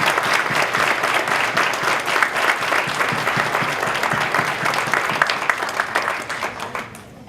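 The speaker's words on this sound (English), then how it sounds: "just to let's round of applause one more time" A round of applause at a graduation and Dean's List reception, dense clapping from a sizeable crowd that holds steady and then fades out at the end.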